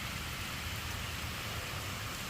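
Steady rain falls in a dense, even hiss, moderately loud and constant, with no voices.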